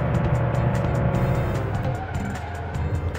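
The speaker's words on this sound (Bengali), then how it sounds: "একটা কার এখন ড্রাইভ করে নিয়ে চলে যাচ্ছে" A car in a mobile truck-transport simulator game drives away along a road, its engine droning steadily and loudly before easing off slightly toward the end.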